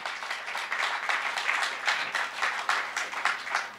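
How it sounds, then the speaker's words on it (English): A crowd at the 2024 SuperMotocross Round 1 pre-race press conference in Anaheim gives moderate applause in uneven pulses of clapping that swell and dip, with no speech on top. "round of applause. What a great addition to the sport."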